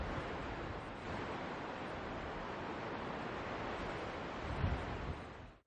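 Steady wind blows through the night, a continuous broadband rush that holds level from start to finish, with a brief louder gust near the end and no voices.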